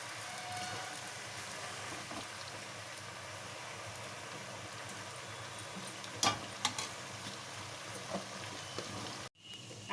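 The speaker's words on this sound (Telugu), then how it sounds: "అల్లం వెల్లుల్లి పేస్ట్ బాగా వేగుతూ ఉందండి" Ginger garlic paste frying in oil for homemade chicken pickle, a steady close crackling sizzle with a few sharper pops near the end and a brief dropout just before it finishes, no voices.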